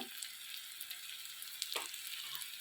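Ginger paste fries in a pan for a Bengali greens curry, a soft continuous hiss close by with a couple of brief stirring scrapes, and no talking.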